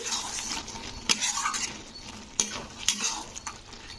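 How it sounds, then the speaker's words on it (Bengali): A spoon stirs an eggplant and pea curry with coriander leaves in a pan, scraping steadily over a soft sizzle, with a few sharp metal knocks against the pan. "ধনে পাতা তো দিয়ে এটাকে নাড়াচাড়া করে দিতে হবে একটু"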